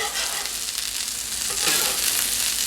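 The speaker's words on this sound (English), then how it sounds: "We got the beef that's kind of browning a little bit." Beef browning on a flat-top griddle gives off a steady, close sizzle and frying hiss that carries on unbroken, with a slight swell partway through and no talking.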